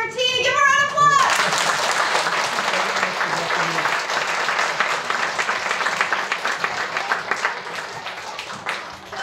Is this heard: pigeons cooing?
no